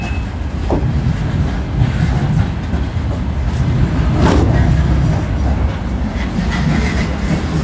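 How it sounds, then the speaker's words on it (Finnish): A train pulls into a station with a steady low rumble and rolling rail noise, a brief brake squeal rising near the middle, heard fairly close and continuous throughout. "Tässä tuli juna nyt asemalle jo."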